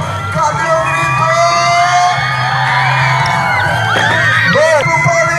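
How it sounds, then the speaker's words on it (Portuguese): Loud crowd of spectators, including children, shouting, whooping and cheering at an outdoor BMX show in Imperatriz, a sustained roar of overlapping voices with rising shrieks near the end. "Cadê o grito?"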